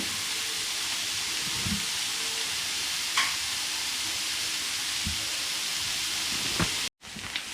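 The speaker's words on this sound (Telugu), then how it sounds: "దీనికి కొంచెం ఒక 3 మినిట్స్ అట్లా ఫ్రై చేసేసుకోండి" Cubes of paneer frying in already-hot oil for biryani make a steady, close sizzle with occasional stirring clinks, continuous throughout before cutting off abruptly near the end.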